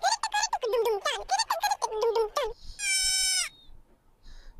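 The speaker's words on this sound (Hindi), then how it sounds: "बकरी का बच्चा छोटा सा" A baby goat gives one short, clear bleat, close and fairly loud, following a stretch of excited talking by people nearby.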